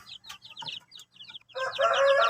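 Shamo chicks about one month old chirping in a brooder, a series of short high peeps through the first part, then building into a dense, loud flock of overlapping chirps near the end.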